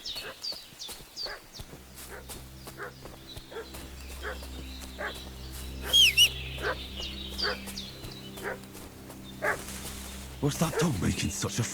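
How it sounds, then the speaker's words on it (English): Dog barking repeatedly in the medieval role-playing game Kingdom Come: Deliverance 2, sharp barks spaced through the scene over a steady low background hum, with a horse's hoofbeats and a brief voice in spots. "What's that dog making such a fuss about?"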